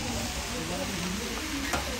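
Oil sizzles in a pan over a charcoal fire during Malagasy cooking in Antananarivo, a steady close crackling hiss with faint stirring throughout.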